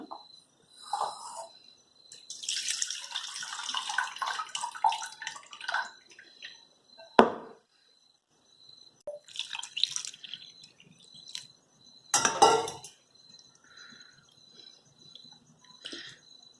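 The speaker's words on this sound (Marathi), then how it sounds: "आपण हे पाणी काढून घेऊया" Water splashes and drips in short bursts as it is poured off freshly churned butter made from milk cream, with quiet pauses between, close and fairly clear.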